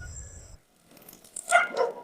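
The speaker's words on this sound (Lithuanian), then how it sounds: "Ar kažkas atėjo, kodėl šunys išpratėjo?" Dogs barking indoors near a door, a short burst of two or three close, sharp barks after a faint low rumble and a brief pause, with no speech.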